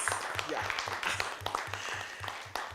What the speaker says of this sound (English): This round of applause,